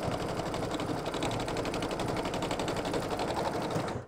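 Embroidery sewing machine stitching an in-the-hoop mug rug, a rapid even mechanical rattle of needle strokes running steadily for about four seconds before cutting off abruptly, with no talk.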